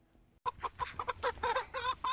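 Backyard chickens cluck in a busy, overlapping run of short calls right up close, starting abruptly after a brief quiet moment.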